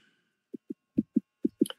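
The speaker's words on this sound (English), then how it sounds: "I can hear a heartbeat." A heartbeat sounds in the Roblox horror game Aperiphobia, three double thumps in a steady lub-dub rhythm, low and close, with no talk over it.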